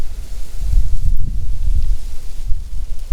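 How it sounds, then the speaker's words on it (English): Steady wind buffeting a microphone outdoors, a low rumbling roar that fills the whole stretch with no other clear sound. "Bear with the wind here"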